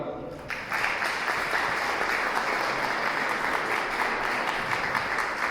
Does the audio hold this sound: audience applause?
yes